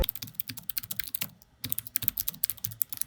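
Rapid, crisp keystrokes on a black Vissles LP85 low-profile optical mechanical keyboard form a steady clacking run with one short pause midway, close and alone.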